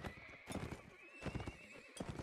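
A horse in the Bones Of Ragnvald Warband mod whinnies in bursts over clip-clopping hooves, loud and close, with repeated sharp calls through the short stretch.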